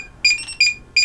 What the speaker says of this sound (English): Oh, there we go, I heard a beep.